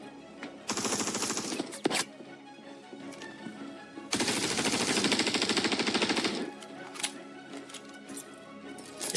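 Rapid automatic gunfire from the video game Star Citizen crackles in two long, loud bursts of dense rattling shots, with scattered single reports and short pauses between them.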